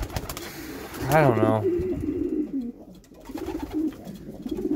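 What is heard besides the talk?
pigeons cooing in a loft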